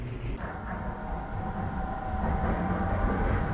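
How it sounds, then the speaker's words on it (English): Low rumbling of a train moving through Shanghai West Railway Station, a steady mechanical drone with faint squealing tones and slowly rising loudness. "we are at Shanghai West Railway Station"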